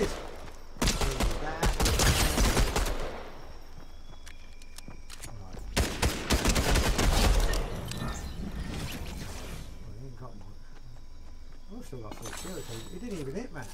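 Fortnite Zero Build gunfire comes in rapid bursts of loud automatic shots, two long volleys and then scattered single shots, with a person talking over parts of it.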